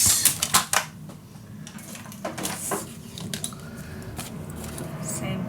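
Scored paper being cut while assembling a mini album in a storage box: a few crisp snips and slicing sounds at the start, then quieter intermittent cutting and handling, close and fairly soft.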